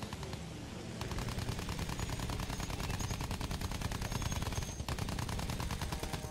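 Sustained automatic gunfire in the video game Battlefield 1, a dense, rapid, continuous rattle of shots throughout with a brief dip near the end, loud and close with no talking.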